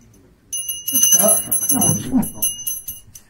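A TCC magic trick bell rings with a bright, sustained metallic tone that keeps going while a person talks over it.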